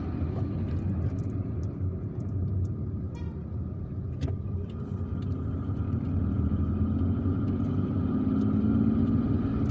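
A car drives through the streets of Algiers, from El Harrach toward Ain Naadja, with a steady close engine and road rumble and faint traffic noise around it.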